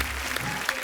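A studio audience claps in dense, steady applause, a brief, loud wash of hands with no clear breaks.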